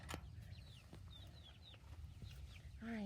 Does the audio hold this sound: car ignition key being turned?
no